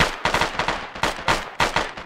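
Rapid bursts of gunfire in the video game Arma, sharp repeated shots in a fast, uneven rhythm, loud and close, with no voices.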